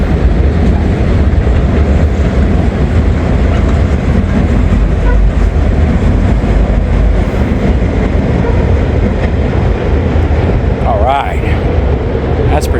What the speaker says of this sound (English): Continuous welded rail train.